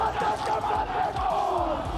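A rugby crowd roaring wildly after a British and Irish Lions try against the All Blacks, with a dense, loud swell of cheering and shouting heard in a brief burst.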